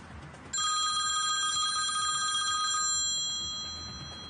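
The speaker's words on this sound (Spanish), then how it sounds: "Y de golpe suena el teléfono de Nico y cambia completamente la historia." A mobile phone rings with a bright electronic tone, a steady ringing that starts suddenly and then fades into a quieter sustained tone.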